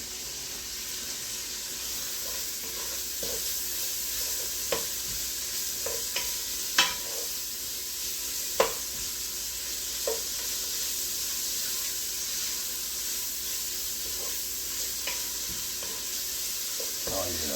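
Bacon for smoked gouda carbonara sizzles steadily in a pan while being stirred. Scattered scraping clicks punctuate the constant frying hiss, and a voice is briefly heard.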